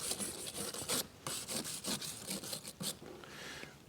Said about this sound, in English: Let's see if we can get any of this slag off with it.